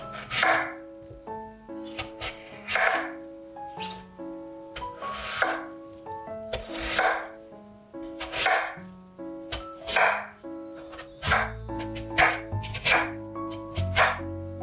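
A knife chops radish into finger-thick sticks on a cutting board in a home kitchen, with steady rhythmic knocks in repeated bursts, close and clear, and no talking.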